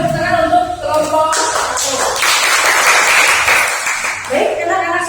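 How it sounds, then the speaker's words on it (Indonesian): Students in a classroom applaud a presenting group, a busy patter of clapping swelling for a few seconds between stretches of voices. "kita beri tepuk tangan untuk kelompok"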